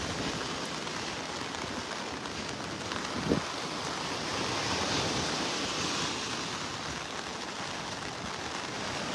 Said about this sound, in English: hear the rain hitting my umbrella.